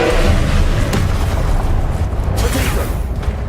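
Confringo spell explosion in Hogwarts Legacy, a loud booming burst that rumbles on as a dense, noisy roar for a few seconds.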